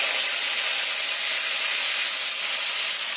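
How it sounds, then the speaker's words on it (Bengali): Cut potatoes sizzle in hot mustard oil tempered with kalonji in a kadai, a loud, steady, close hiss of frying that runs unbroken throughout with no voices. "আলুগুলো দেওয়া হয়ে গিয়েছে, এগুলোকে এবার লাল লাল করে ভেজে নিতে হবে"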